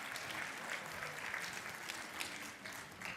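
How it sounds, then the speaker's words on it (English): Audience applause fills the room at a talk on neurodiversity and inclusion, an even wash of many clapping hands at moderate distance, sustained without a break and with no talk over it. "Everybody give yourself a round of applause."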